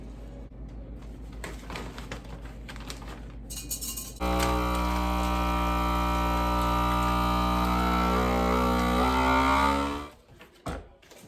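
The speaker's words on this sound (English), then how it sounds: "Now that I have these vacuum sealed" A FoodSaver vacuum sealer sealing bags of blanched green beans: after a few light clinks and rustles, a loud, steady motor drone runs for about six seconds, then cuts off.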